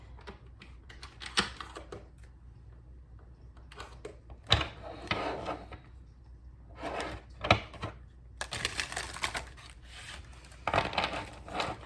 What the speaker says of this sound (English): I'm gonna get a few more cards out, guys, before we get started.